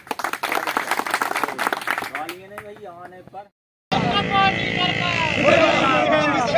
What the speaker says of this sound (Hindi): अगर इस बात की सहमति आप लोग देते हैं तो आप लोग जोरदार तालियां बजाकर